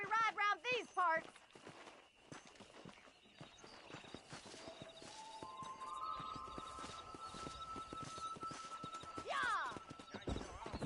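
A horse's hooves clip-clop steadily at a run in the Western video game Red Dead Redemption, with whinnies at the start and near the end, under a musical score and talk.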